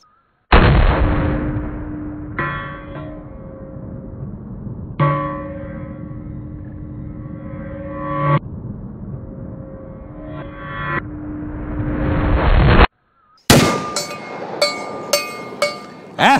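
Shots from a Phoenix Arms HP25A pistol ring out one at a time against a steel target outdoors, each crack followed by a bright metallic ring and a long decay, then a quicker burst of several shots at the end.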